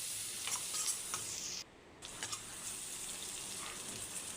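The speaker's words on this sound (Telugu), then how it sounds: "ఆనియన్, పచ్చిమిర్చి వేసుకొని కొంచెం మగ్గాక దాంట్లో కొంచెం పసుపు, కొంచెం సాల్ట్ వేసి బాగా కలుపుకోవాలి" Onions and green chilies with turmeric and salt are stirred in a pan, a soft sizzle under light scraping strokes, quiet and close with a brief gap midway.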